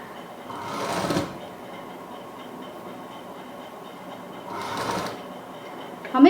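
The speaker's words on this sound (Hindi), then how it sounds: "पट्टी के बीच में हमने सिलाई लेनी है।" A sewing machine stitches along the middle of a fabric strip for a Barbie frock, with two short whirring runs of rapid stitching, separated by quiet pauses, close and moderately loud.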